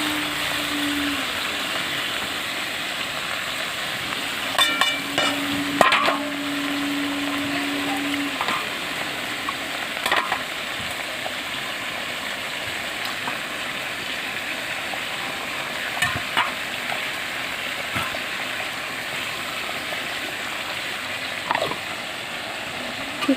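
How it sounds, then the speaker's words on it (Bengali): Meat sizzles while being stirred by hand with spices in a pan, a steady frying hiss with scattered scraping and clinking of the spoon against the pan, close and continuous without talk. "মাংসটা ভালো করে কষিয়ে নেব।"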